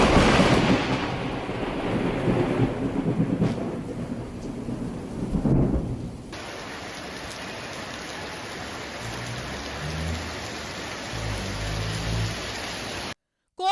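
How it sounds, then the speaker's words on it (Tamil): Thunderstorm with heavy rain over the hill areas of Ooty, Vandicholai and Doddabetta in the Nilgiris: deep rolling thunder swells loud at first over a dense rain hiss, then eases to a steady downpour with distant low rumbles. "உதகை, வண்டிச்சோலை, தொட்டபெட்டா பகுதிகளில் இடியுடன் கூடிய பலத்த மழை பெய்தது"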